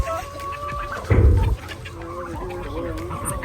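Backyard chickens being caught for quarantine, clucking and squawking nearby, with a louder burst of flustered fowl calls partway through and steadier clucks before and after it.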